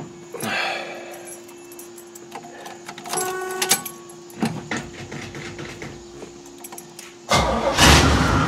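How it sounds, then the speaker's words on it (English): A 1969 Pontiac Firebird with a dual exhaust cranks with a few short starter bursts, then catches and roars to life loudly at the end. "let's fire this thing up."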